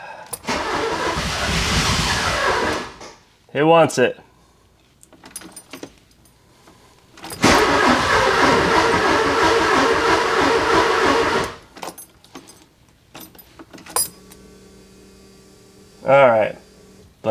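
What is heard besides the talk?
Porsche 944 engine starting and running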